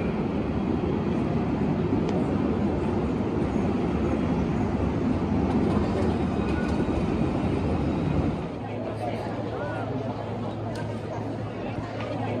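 Dense, rumbling urban traffic of cars and trams with a constant low roar and background chatter, which drops to a quieter hum near the end.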